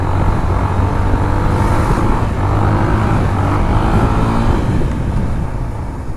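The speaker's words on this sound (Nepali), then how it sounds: "सो हामी चाहिँ दिपेशको बाइक लिएर जाँदैछौँ" Motorbike ridden along a road with a steady, loud engine drone and wind rush, continuous throughout with no talk.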